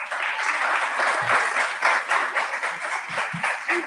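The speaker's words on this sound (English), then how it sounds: "All of them clapping to start with." Audience clapping in a hearing room, a dense, steady burst of applause lasting several seconds with a few faint voices underneath.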